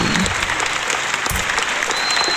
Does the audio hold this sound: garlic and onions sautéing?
no